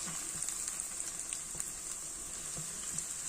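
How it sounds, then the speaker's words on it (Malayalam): Banana flower cutlets fry in hot oil with a steady, close hiss, small pops and crackles breaking through the bright sizzle from start to finish. "അപ്പം ഞാനിപ്പം തൽക്കാലത്തേക്ക് വറുത്ത് കാണിക്കാം."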